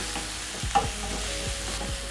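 Garlic and spices frying in a pan for a lentil curry, a steady low sizzle broken by a few spoon scrapes and one sharp metallic clink.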